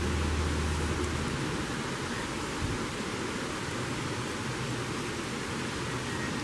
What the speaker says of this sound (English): these rains are courtesy of Tropical Storm Barry here in July